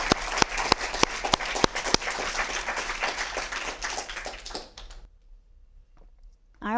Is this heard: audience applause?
yes